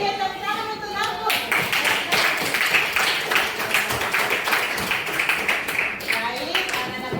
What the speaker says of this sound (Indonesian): Oke, tepuk tangan untuk aku.